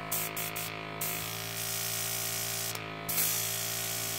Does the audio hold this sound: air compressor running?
yes